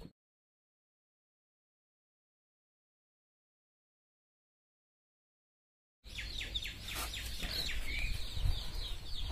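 Backyard native chickens (nattu kozhi) settling into a newly built coop, clucking and calling alongside small bird chirps, arriving abruptly after a long silence and continuing at moderate level to the end.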